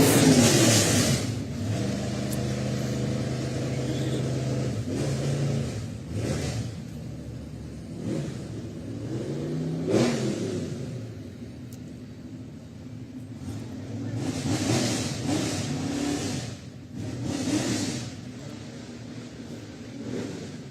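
Southern Oregon Speedway race cars rev their engines during the Medford Pear Blossom Parade, a loud continuous rumbling roar with repeated rises and falls in pitch, close by and sustained for about twenty seconds.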